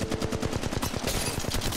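Fast automatic gunfire in the mobile shooter Apex Legends Mobile, close and loud, with a rapid string of shots over about a second before a short follow-up burst.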